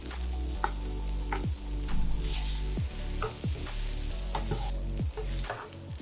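A spoon scrapes and clatters steadily in a pan as cooked rice is stirred into fried potatoes, giving repeated metallic clinks and a continuous sizzle close to the listener, with no talking.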